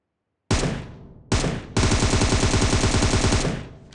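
Rapid automatic gunfire in PUBG Mobile, loud and close: a short burst, a second brief burst, then a long sustained volley of evenly spaced shots that trails off near the end.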